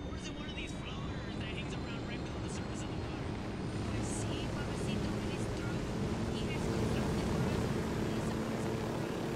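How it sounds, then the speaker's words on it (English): A helicopter lifting off in the video game Ghost Recon Wildlands, a steady rotor and engine drone that swells slightly as it rises, with someone talking over it. "just gonna go for a little helicopter ride"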